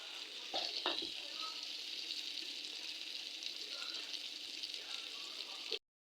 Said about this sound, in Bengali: আমি ভেজে নিব আলু